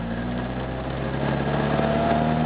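An MGB engine runs steadily at mid revs while the car moves gently through its gears, a close, constant droning hum with a slight rise in level toward the end.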